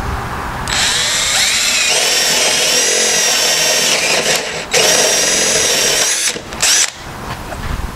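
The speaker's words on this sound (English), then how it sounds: "Okay, so we're going to drill a hole first." Loud whine of a power drill boring a hole in a wooden corn hole board, running steadily with pitch dips as it bites and two short pauses near the end, close to the microphone.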